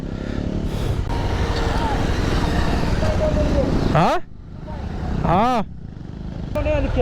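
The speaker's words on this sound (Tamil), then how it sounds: "போயா திணறுதுங்க வண்டிலாம். 400 திணறுது பார்த்துங்க." A 400cc motorcycle labours up the steep, dangerous Kallatti ghat road near Ooty, a loud continuous engine and wind roar broken by rising revving sweeps, with voices talking over it.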